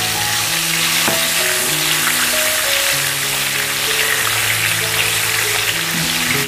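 Red chili peppers fry in oil for an East Javanese gado-gado, a loud, close, unbroken sizzling hiss with a low steady tonal hum beneath and a single sharp knock early on.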